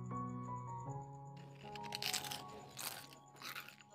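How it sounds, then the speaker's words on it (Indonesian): Thin, crispy, cone-shaped Malaysian roti tisu (tissue bread) is bitten into, giving several close, brittle crunches in short bursts over a quiet background with faint music and no talk. "Jadi tuh kriuk-kriuk banget ya. Semakin tipis semakin renyah banget."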